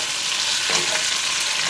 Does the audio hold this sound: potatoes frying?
yes